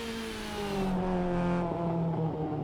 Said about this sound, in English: Bit more of a tin can exhaust, so it has that sound. It is not that loud though.